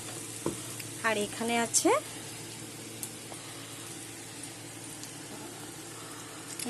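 Okra stir-fries in a pan with oil, a faint steady sizzle running throughout, broken early by a few short bursts of stirring or scraping, with a brief spoken word near the start.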